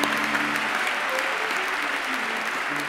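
A graduation ceremony audience claps for postgraduate medicine and science graduates, giving a steady, dense roll of applause at an even level for the full stretch, with no voice over it.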